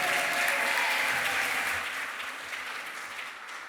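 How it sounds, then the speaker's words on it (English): At the 2025 Ellies Awards ceremony, an audience gives a short burst of applause, a dense round of clapping that is loud at first and then gradually tapers off. "One more round of applause"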